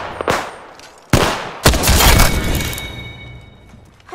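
Gunfire in Apex Legends: a short burst, then sharp loud cracks with a dense rattling volley that decays over a couple of seconds, close and without talk.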